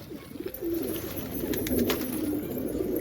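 Pigeons coo steadily while being fed grain, low rolling calls repeating close by over a constant background hum, with a few faint higher chirps mixed in.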